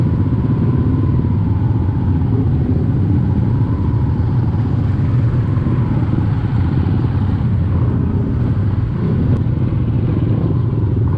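Motorcycles, including a Sniper 150, idle in a group at a charity ride for typhoon victims in San Mateo, Rizal, a loud steady engine drone filling the scene with no talk.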